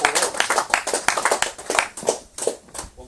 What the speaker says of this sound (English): let's give a big round of applause to 3rd place in kart number 151, John Ty.